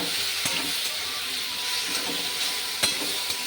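Spice paste of ground cumin, turmeric and chilli powder sizzles steadily in a pan for rohu fish curry, a continuous close frying hiss with a few soft stirring scrapes and clinks.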